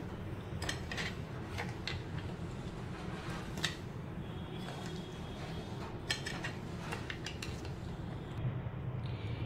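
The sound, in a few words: stirring a lemon juice and sugar mixture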